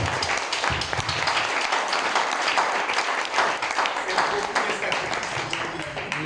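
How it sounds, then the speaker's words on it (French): A church congregation applauds the Lord, continuous clapping from a crowd that blends with voices throughout. "Acclamons le Seigneur."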